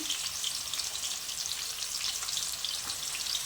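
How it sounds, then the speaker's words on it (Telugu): Onions and green chilies frying in oil for a drumstick-leaf chicken curry, with a continuous bright, crackling sizzle close up and no talking. "వేసి గోల్డెన్ కలర్ వచ్చేదాకా వేయించుకోవాలి"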